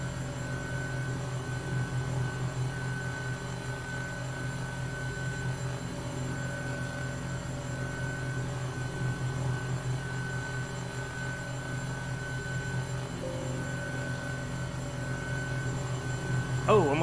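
Steady helicopter engine and rotor drone from a simulated flight over Los Angeles in Microsoft Flight Simulator, a constant low hum with tonal whine running evenly throughout, moderately loud with no break.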